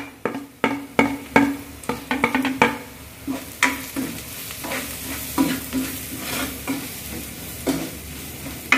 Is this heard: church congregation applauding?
no